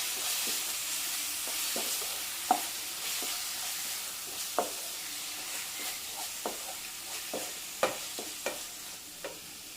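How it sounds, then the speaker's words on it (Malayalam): Tomato puree being sautéed in a pan for mushroom masala, a soft steady sizzle with recurring clinks and scrapes of a spoon stirring against the pan, close and without talk. "ഇനി തക്കാളിയുടെയും പച്ചമണം പോകുന്നത് വരെ നമ്മളൊന്ന് ഇതിലിട്ട് വഴറ്റി കൊടുക്കണം."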